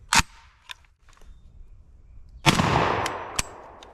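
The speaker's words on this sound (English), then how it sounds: "We're going to try that number 9 shot again, the BioAmmo stuff." A Fostech Origin 12 shotgun fitted with a muzzle brake fires number 9 BioAmmo shot, giving a sharp, loud blast, then a few fainter clicks and a louder burst of noise with a later crack.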